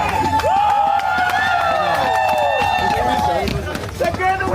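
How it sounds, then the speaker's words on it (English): A crowd cheering and shouting at a Minneapolis street gathering, loud and continuous with overlapping voices and whistle-like calls throughout. "What are they cheering for?"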